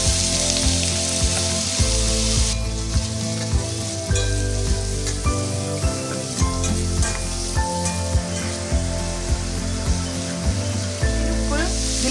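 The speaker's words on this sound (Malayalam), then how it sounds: "ഇതിലേക്കായിട്ട് 2 മീഡിയം സവാള ഇതുപോലെ ചെറുതായി കട്ട് ചെയ്തതാണ് ചേർത്ത് കൊടുക്കുന്നുണ്ട്." Two medium onions, chopped small, fry in a pan with a loud, steady sizzle that runs the whole time, with occasional stirring and a tonal background hum underneath.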